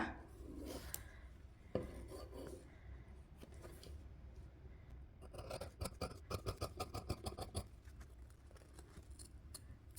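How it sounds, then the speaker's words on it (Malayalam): Scissors cut through fabric along the outline of a drawn nightie pattern, giving soft rasping snips that turn into a quick run of rhythmic crunching cuts in the second half, close and quiet with no voice. "ഇനി കട്ട് ചെയ്തെടുക്കാം ആദ്യം ബെഡ്ജിട്ടിട്ട് ഔട്ട് ഭാഗം കട്ട് ചെയ്തെടുക്കുക"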